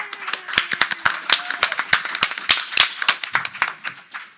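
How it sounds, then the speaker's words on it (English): Scattered applause from a small live audience at a comic and pop culture podcast show at New York Comic Con, a handful of sharp, distinct hand claps in an uneven rhythm rather than a dense roar. "Let's give Chris and Aaron Knowles a round of applause"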